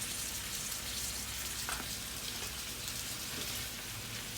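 Meat with gochujang stir-fries in a hot pan, a dense, steady crackling sizzle filling the whole moment, close and even, with a faint tap partway through.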